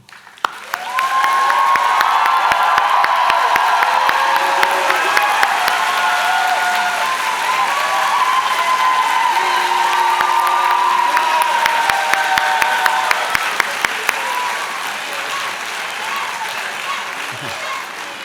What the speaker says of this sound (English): I know that this will get a huge round of applause